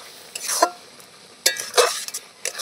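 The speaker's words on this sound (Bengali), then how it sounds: "মশলাটা দিয়ে একটু নাড়াচাড়া করবো" Spice mix stirred into raw mango pickle, a few scraping, rustling bursts of a spoon working through the mixture, close and moderately loud, with short pauses between strokes.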